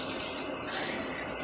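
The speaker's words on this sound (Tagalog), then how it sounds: "Lagyan mo na ang tubig," Tap water running steadily into a pot or container in a home kitchen while a dish is being cooked, a continuous close splashing wash with no talk.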